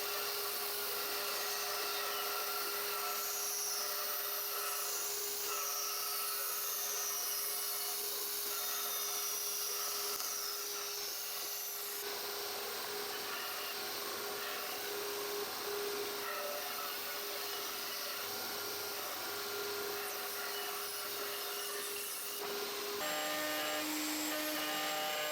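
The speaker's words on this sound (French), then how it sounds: "Je vais faire le maximum à la scie à ruban tout autour." A band saw cuts around a traced outline in ash wood for the wooden body of a Morgan 4/4 under restoration, a steady loud whining drone with a constant motor hum that shifts slightly in pitch as the blade works through the timber.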